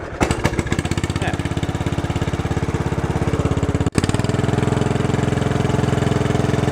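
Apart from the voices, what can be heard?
old John Deere engine started and running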